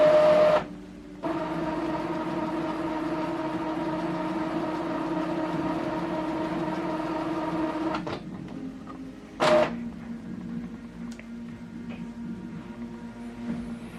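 An Epson WorkForce WF-2845 inkjet printer initializes after ink cartridge installation, giving a steady mechanical whirr and hum with a high tonal whine, brief clicks and a pause partway through, then a quieter continued drone.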